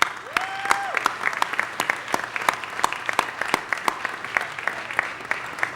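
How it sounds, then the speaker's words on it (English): A room at a Los Angeles city council special meeting breaks into steady applause for Mr. Krikorian, dense, continuous clapping with a brief whistle-like tone early on. "we really need to give Mr. Krikorian another round of applause"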